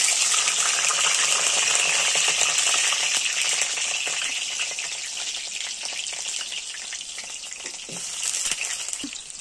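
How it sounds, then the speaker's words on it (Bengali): Potatoes frying in hot mustard oil in a wok, a steady bright sizzle that holds loud throughout and eases slightly midway, with a few faint stirring clicks near the end. "গরম হয়ে গেলে আলুগুলো ভেজে নেব।"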